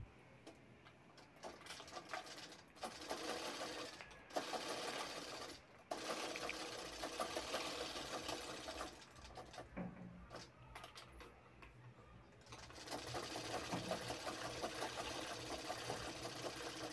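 A sewing machine runs in steady bursts while stitching a frill onto the back piece of a lehenga, with a rapid mechanical whir and brief pauses between passes, close and alone without talk.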